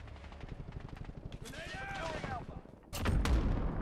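Gunfire in Call of Duty Modern Warfare, a rapid automatic burst at first, then a whine and a heavy closer blast near the end, with a voice talking briefly over it.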